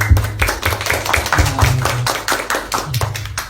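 A small group claps hands at a community talk event, a sparse, uneven patter of individual claps with some low thumps, fairly close and without talk over it.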